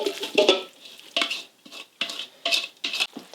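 Corned beef and cabbage being tossed together in a bowl, a series of close, bright clinks and scrapes of utensils against the bowl in short uneven bursts, with no talking.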